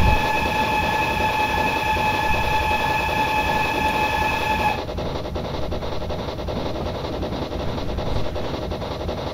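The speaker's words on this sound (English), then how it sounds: "Watch the train go through here." Train running through Ryde on the Isle of Wight: a steady loud rumble of wheels on rails with a sustained high whine that cuts off halfway, then continues as a rough rolling roar with faint clicks.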